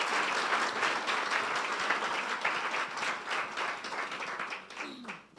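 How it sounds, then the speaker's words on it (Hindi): A church congregation claps loudly and continuously, a dense even wash of hand claps that holds steady and then fades out near the end, with no talking over it. "यीशु के जलाल के लिए जोरदार तालियां बजा दें।"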